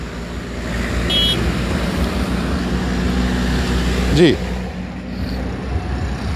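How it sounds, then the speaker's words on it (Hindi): A large convoy of vehicles moves past in a procession, a continuous roadway rumble of engines and tires with a brief horn-like toot near the end. A voice speaks briefly over the traffic. "जुलूस अभी जा रहा है, गाड़ियों का बड़ा काफ़िला है।"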